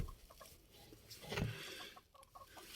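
Hens clucking inside a backyard coop near the nest boxes, soft scattered clucks with one louder burst partway through, over a rustly background.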